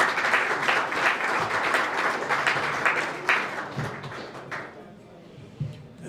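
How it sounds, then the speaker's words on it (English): Audience applause fills a luncheon hall, steady clapping from many hands that thins out and fades toward the end, with a few scattered late claps. "So another big round of applause for her."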